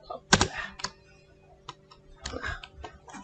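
Several keystrokes on a computer keyboard while entering commands to set a switch hostname, a quick burst at first and then scattered taps, near and fairly quiet, with no talk.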